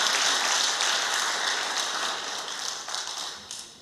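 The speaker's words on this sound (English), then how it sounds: "Let's give a round of applause, another round of applause for both candidates" An audience at a Republican candidate forum applauds two candidates with a steady wash of clapping that slowly thins and fades toward the end.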